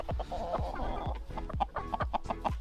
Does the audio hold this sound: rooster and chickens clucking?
yes